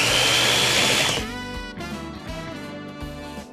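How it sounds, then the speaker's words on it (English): A blender roars loudly as it chops salad vegetables, then drops into a series of shorter, lower pulsed bursts with brief gaps, close and alone with no talking. "So obviously this goes really fast with the blender. I've never chopped a salad in a blender before."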